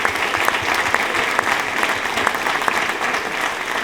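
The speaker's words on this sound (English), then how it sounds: "Can they please get a round of applause?" A seated luncheon audience applauding, dense steady clapping from many hands filling the room at an even level for several seconds.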